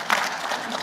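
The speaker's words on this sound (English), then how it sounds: "You can clap, by the way, because that was fantastic." Brief burst of audience clapping in a hall, a short dense patter that rises and fades within a second.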